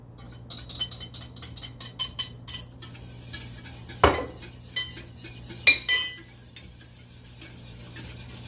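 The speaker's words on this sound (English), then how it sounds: "You still want to stir, because you don't want to curdle those eggs." A spoon stirs lemon meringue pie filling, a warm egg mixture, in a metal pot, with a quick run of rhythmic clinks and taps, then sparser scrapes and knocks against the sides over a quiet background.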